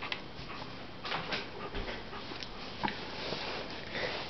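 An Old English Sheepdog at a herding outing sniffs close to the microphone in quick, fairly faint snuffling bursts, with a few soft whimpers mixed in over quiet outdoor background.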